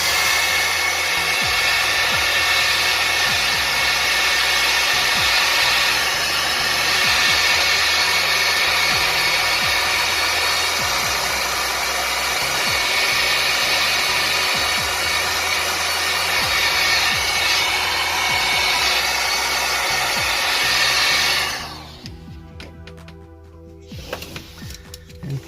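A hot-air heater or heat gun blowing steadily to soften the adhesive on a Huawei P10 lite back cover, a loud continuous whoosh with a motor hum that cuts off near the end, leaving quiet handling sounds.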